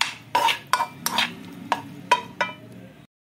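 A filling of chicken and olives for savory crepes being stirred in a pan, with about six brisk, close scraping strokes in a loose rhythm before it cuts off.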